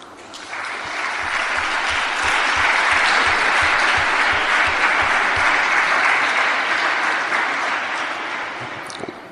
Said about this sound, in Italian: Grazie dell'applauso anche a nome loro.